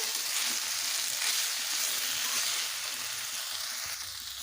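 Banana flower with fish head sautés in a pan, giving a loud, continuous sizzle with a steady hiss and faint stirring scrapes, no voices present.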